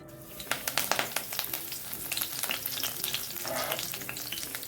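Curry leaves dropped into hot oil crackle and spit loudly in a pan, with sharp popping bursts that settle into a steady close sizzle, no voices.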